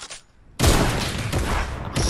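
After a quiet start, a loud dense burst of Fortnite gunfire erupts and carries on for over a second, with another shot cutting in right at the end.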